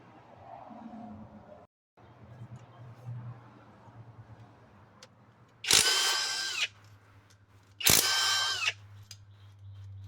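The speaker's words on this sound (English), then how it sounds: "we're gonna continue removing more screws and get to the bottom of this" A power drill backs screws out of a 2005 Volvo XC90 engine during timing belt removal, two loud whirring bursts of about a second each, close by, over a low steady hum.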